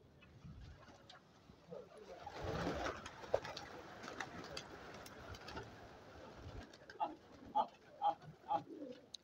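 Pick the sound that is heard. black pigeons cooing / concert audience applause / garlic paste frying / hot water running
black pigeons cooing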